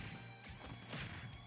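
Heavy KO punch connecting in Super Smash Bros, thrown by Little Mac, one loud crashing impact amid dense game noise and crowd roar.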